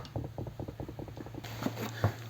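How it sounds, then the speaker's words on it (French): A nut being loosened on the engine of a Honda 125 CB Twin motorcycle during a bottom-end teardown. About a dozen quick, evenly spaced metallic ratchet clicks come close and clear, followed by a steady hum and a couple of light knocks. "on a réussi à débloquer l'écrou là en se mettant à deux et en le tenant"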